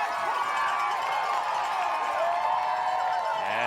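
Dense roadside crowds packed several deep cheer steadily along the final stretch of the 2025 Boston Marathon, with the men's chase group passing. The roar is loud and continuous and stays unbroken from start to finish.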